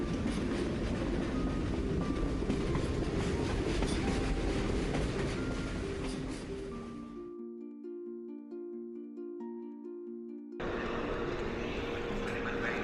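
A train passes through an Italian railway station, a loud broadband rumble and rattle that drops away mid-clip, leaving a steady hum of the station with some sustained tones, before the heavy rolling noise returns close by.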